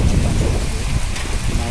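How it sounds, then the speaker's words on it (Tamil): Heavy summer rain pours down with rumbling thunder and gusting wind, a loud, dense, continuous roar. "நல்ல மழை பெஞ்சு கொண்டே இருக்கு."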